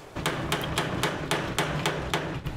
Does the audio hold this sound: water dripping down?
no